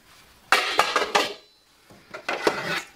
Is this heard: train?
no